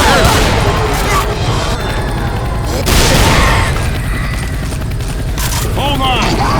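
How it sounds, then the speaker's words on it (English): Rapid, dense gunfire in the Left 4 Dead 2 video game, loud bursts of shooting with booming impacts running throughout, mixed with game noise and a character voice. "I'll provide some cover fire from up here"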